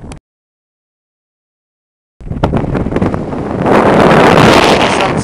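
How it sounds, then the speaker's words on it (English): After a brief silence, strong wind gusts buffet the microphone high on a headland near St. Osyth, a loud rushing roar that grows heavier toward the end. "It's quite windy up here."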